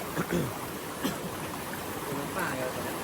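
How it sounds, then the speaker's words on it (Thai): A fast, swollen mountain stream near the border rushes continuously nearby, its churning flow steady throughout, with someone talking over it. "มันทำให้น้ำไหลแรงเรื่อยๆ"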